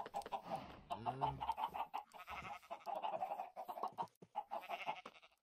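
Chickens in a Minecraft pen cluck and chatter in short bursts, faint and close, amid a busy mix of farmyard animal noises with no pause.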